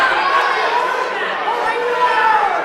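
A wrestling team's bench at a high school quad meet cheering loudly, a dense steady roar of many voices close by, shouting over a constant crowd chatter throughout.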